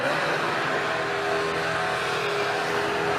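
Steady, loud engine roar with a rough, hissing tire edge as Austin Dillon's number 3 NASCAR stock car does a burnout on the Las Vegas Strip during a 2016 victory-lap event. The sound is continuous and close, with no gaps.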